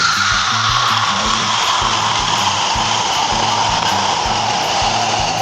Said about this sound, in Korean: 집에 이런 스팀 청소기가 있으면 이렇게 활용을 할 수 있습니다